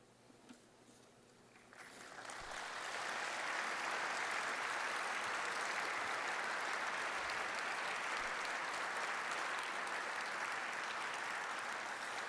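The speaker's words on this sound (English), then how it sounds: "With the outstanding applause of the participants, I declare the adoption of the 15th World Forestry Congress outcomes" Participants at the World Forestry Congress closing ceremony break into applause that builds within a couple of seconds into a loud, sustained wash of clapping from a large hall crowd.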